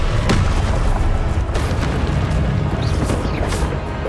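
A Confringo blasting spell fired in the Hogwarts Legacy video game, producing a heavy, booming explosion. A dense, loud roar of blasts and rumbling follows and stays steady and close throughout.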